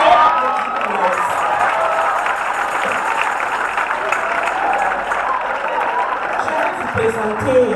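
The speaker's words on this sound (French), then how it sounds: "Veuillez applaudir l'ASC" A church congregation applauds and cheers at a Sunday service broadcast for an association's day, with dense steady clapping, shouts and whoops filling the hall close by for the whole stretch.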